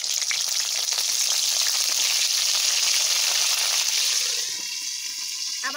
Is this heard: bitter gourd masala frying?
yes